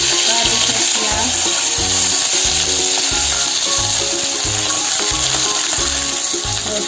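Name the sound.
onion frying in hot oil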